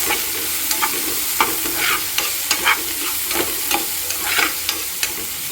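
Tomatoes being stirred into a frying prawn masala: a spoon scrapes and taps the pan in an uneven rhythm over a continuous close sizzle, with no talking.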